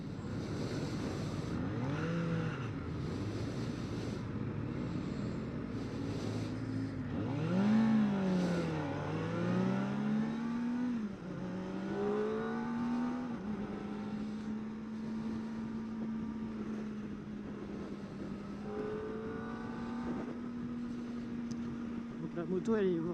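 A 2024 Kawasaki ZX-4RR motorcycle engine pulls through the revs under constant heavy wind rush, its rising whine climbing steadily mid-ride before settling into a steady drone, heard from onboard the moving bike.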